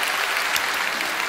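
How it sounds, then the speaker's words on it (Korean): Church congregation applauding together during a Sunday worship service, a steady wash of many hands clapping at close range with no voices over it. "우리 축복하고 한번 박수하겠습니다"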